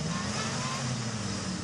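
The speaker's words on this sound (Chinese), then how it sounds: "汽车从一处低洼地刚冲出来，准备翻越一个小陡坡时" A car's engine holds a steady, strained drone, pushing up a small sandy slope out of a low hollow in the Horqin Sandy Land, with a rough continuous hum.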